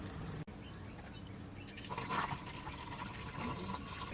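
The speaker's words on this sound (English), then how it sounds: "I've put all the coolant that I could fit into the radiator" Coolant pours into a car radiator on a Nissan 180SX with an RB25DET engine, a faint gurgling, trickling liquid fill that grows a little louder partway through, with no voices.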